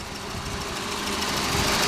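1992 Volvo 240DL with a 2.3-liter four-cylinder engine idling steadily, a close, even mechanical hum with a faint rhythmic pulse and no voices.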